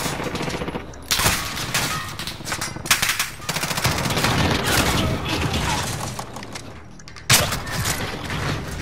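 A light machine gun in a multiplayer shooter fires in long, dense, sustained bursts, loud and continuous with only brief breaks, amid general battle noise.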